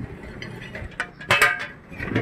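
The horizontal seed plate of a corn planter with a stainless steel hopper is turned by hand, giving soft metallic clinks and ratcheting clicks, close up and fairly quiet, with a louder clatter partway through.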